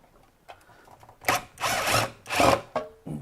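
Power screwdriver working screws out of a Chauvet LED moving head light, giving several loud whirring bursts with brief pauses between them, close up.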